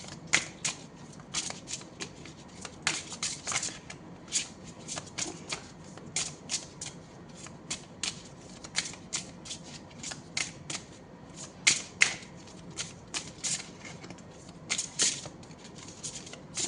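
Tarot cards being shuffled by hand to draw a single card, giving a rapid, crisp riffle of flicking card edges in irregular bursts, close and fairly quiet with no speech.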